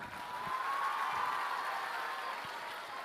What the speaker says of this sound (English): clap your hands even louder